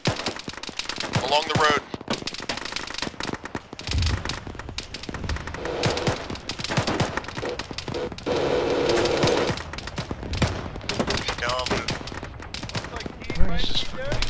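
Bursts of machine gun fire crackle throughout an Arma military game firefight, dense rapid rattling with louder and quieter volleys, under short radio-style voices calling out directions.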